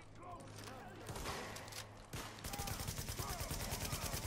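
Gunfire in The Division video game, rapid automatic bursts of shots building to a steady rattling stream in the second half, mixed with game sounds and someone talking.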